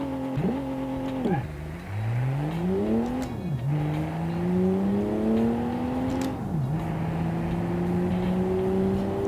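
A Turbo Sport Monza car in Automation accelerates hard, its engine note climbing through several gears with sharp dips at each shift, loud and continuous with no one speaking.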